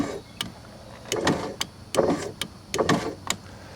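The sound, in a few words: bound-up power window motor, 1995 Ford Crown Victoria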